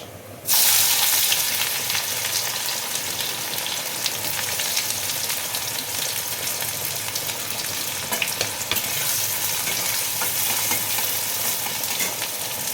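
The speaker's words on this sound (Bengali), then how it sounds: "এরপরে দেবো পেঁয়াজ কুচুনি" Chopped onion hits hot oil in a pan and sizzles loudly and steadily, a dense continuous frying hiss with faint stirring scrapes, after a brief quiet start.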